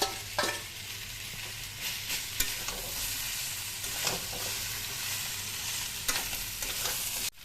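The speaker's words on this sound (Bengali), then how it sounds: "মশলাগুলো কষা হয়ে গেলে এতে মাছের মাথাটা," A fried fish head sizzles in a pan of cooked-down spices, a continuous close hiss broken by sharp scraping knocks as the mixture is stirred, with no voices.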